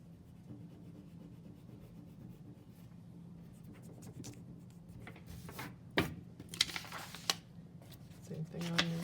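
An eraser rubs over oil pastel marks on paper in short scratchy strokes, soft at first and then growing louder in irregular bursts, with a faint steady hum in the background.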